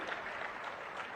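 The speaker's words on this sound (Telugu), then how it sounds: "గట్టిగా చప్పట్లు కొట్టి అభినందించండి." Audience applause at a political rally in Gudivada, a steady dense clapping from a crowd, distant and fairly faint, continuing without break.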